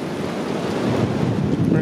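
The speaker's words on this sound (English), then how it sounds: "Windy too" Strong wind blowing through the woods in Ohio, a steady close rushing roar with gusty buffeting against the microphone, no voices.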